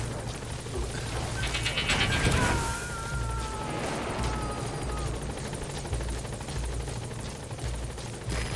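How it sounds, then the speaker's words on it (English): A support helicopter's rotor thumps steadily under a dense layer of sound effects from Metal Gear Solid V: The Phantom Pain, with a crash-like burst early on and constant mechanical noise. "Support helicopter has arrived."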